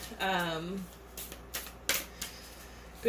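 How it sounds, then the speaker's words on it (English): Star Temple Oracle cards are shuffled by hand in a few short, crisp riffling bursts. A voice briefly vocalizes before the shuffling starts. "shuffles very well both traditionally and doing it just from palm to palm."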